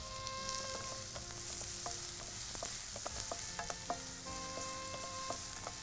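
Onions sauté with a pinch of salt in a pan, giving a faint continuous sizzle broken by the light scrape and clink of stirring, with no talk.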